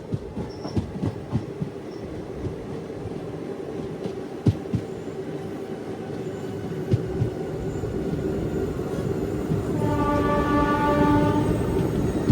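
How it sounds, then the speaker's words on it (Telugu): Train locomotive horn honking on an Indian express train, a sustained harmonic blast rising late over the steady rumble and clatter of carriages on the rails. "మన లోకోమోటివ్ హాంకింగే అది."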